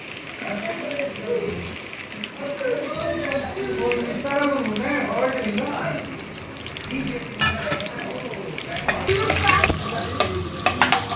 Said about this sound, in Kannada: ಇವಾಗ ಎಣ್ಣೆ ಕಾದಿದೆ, ಕ್ಯಾಪ್ಸಿಕಮ್ ಹಾಕೊಳ್ಳೋಣ.